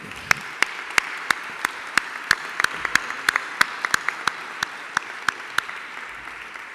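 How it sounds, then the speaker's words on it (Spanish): Sparse, scattered hand claps from a small audience at an administration panel debate, with individual claps ringing out irregularly rather than building into full applause, fairly near and moderately loud. "Aplaudimos."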